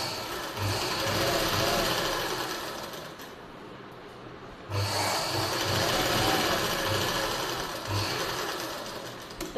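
A sewing machine stitches tacking along the tucks of a lined silk suit in a boutique, running in two steady, close bursts of rapid mechanical chatter separated by a brief pause.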